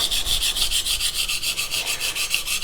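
Rhythmic back-and-forth scraping of a Yoshikazu Ikeda 210mm honyaki gyuto in White #2 steel across a whetstone, steady repeated strokes close by, with no talking.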